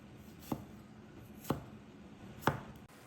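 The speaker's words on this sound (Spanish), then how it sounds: "Cogemos el primer ají y le cortamos la parte de arriba." A knife slices through ají peppers on a cutting board in three sharp, evenly spaced chops about a second apart, close and clear against a quiet kitchen background with no talking.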